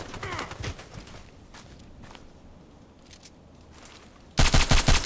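DT SRS mk.2 rifle fired in the online shooter Contract Wars, a few sharp shots early on, then quieter game ambience and a sudden loud close volley at the end.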